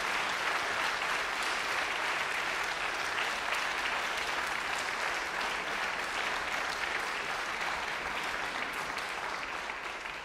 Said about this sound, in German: Vielleicht mal einen Applaus für die ganzen Kollegen